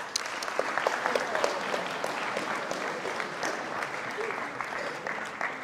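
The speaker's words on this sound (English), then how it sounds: "Can we give them a round of applause, please?" School audience of pupils at a Sikh academy applauding, a moderately loud burst of many hands clapping that holds steady then slowly eases, with a few sharper individual claps standing out.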